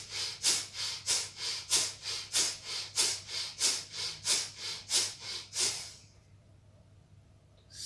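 Rhythmic breathing during a pranayama yoga exercise: about eleven strong, evenly spaced breaths, each a close, airy rush, ending abruptly and followed by near silence.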